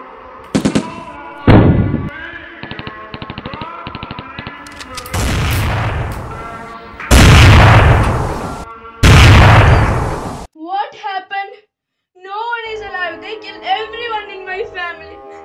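Gunfire from soldiers in a Republic Day skit: several loud bursts of shots in clusters, separated by short gaps, with dramatic music and talking around them.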